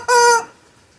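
A hen in a workshop lets out one short, loud squawking cluck close by, then goes quiet.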